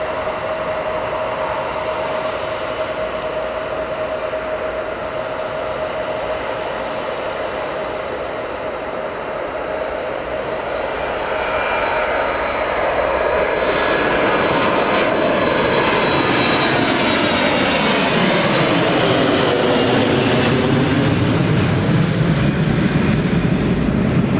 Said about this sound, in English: And here comes the Manchester City team on this Air Horizon 737-400.